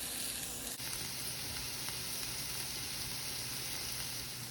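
Garlic and tomatoes cooking in a pan give off a steady, even sizzle that carries on throughout without pause, with no talk over it.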